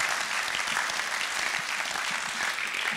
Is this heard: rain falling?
no